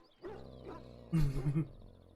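A dog in the video game Dragon Age: Origins lets out two short, gruff bark-like bursts close by, the second louder and growlier, over quiet background ambience.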